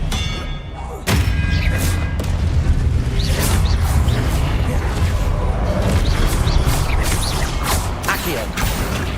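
Expelliarmus spell cast in Hogwarts Legacy: a sudden loud magical blast opens into a dense, roaring wash of thuds and crashing game effects that keeps going, with a voice faintly present underneath.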